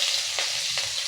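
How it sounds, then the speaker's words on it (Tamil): Fennel seeds sizzling in hot oil in a home kitchen pan for pepper chicken gravy, a loud, close, continuous frying hiss with two brief stirring swells, no voices. "நல்லா எண்ணெய் போட்டிருக்கேன். கொஞ்சம் சோம்பு போட்டு"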